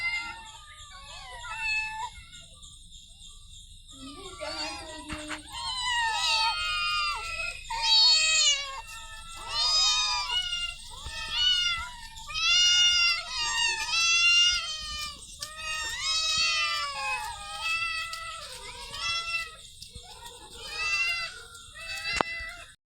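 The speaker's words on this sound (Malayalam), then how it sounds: "ഇതാ പൂച്ചക്കുട്ടികൾ 6 മണിക്ക് എഴുന്നേറ്റു, കാറ്റ് ഫുഡ് കഴിച്ചു, പാല് കുടിച്ചു" Several kittens meow over and over at close range, their high, drawn-out cries overlapping almost continuously, with soft background noise and no talking.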